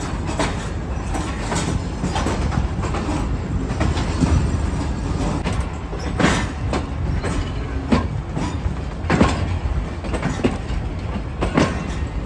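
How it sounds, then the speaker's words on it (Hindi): Diesel locomotive GMU 424811 shunting passenger coaches at Rohri railway junction, a steady rumble of rolling stock with rhythmic wheel clacks and occasional sharp clanks, close and continuous throughout. "GMU 424811 शंटिंग इन रूटिंग अंजाम देते हुए रोडी जंक्शन पर।"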